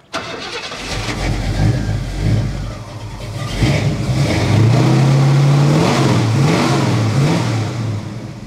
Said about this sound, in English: That's a Ford pickup with a hot rod Lincoln motor.